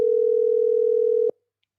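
A WhatsApp outgoing calling tone plays as a single steady electronic hum, clear and unbroken for just over a second before it cuts off abruptly into silence.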